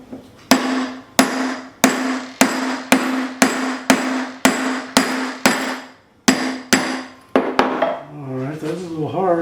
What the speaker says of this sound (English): Alright, let's punch this hole.